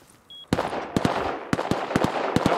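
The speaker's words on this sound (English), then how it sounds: "Oh god, somebody's shooting at me." Gunfire in the survival video game Rust: a short burst of sharp, close shots after a brief tone, then repeated single and paired loud shots at uneven intervals over a steady background.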